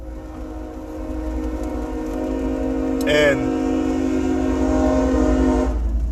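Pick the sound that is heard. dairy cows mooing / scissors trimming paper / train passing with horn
train passing with horn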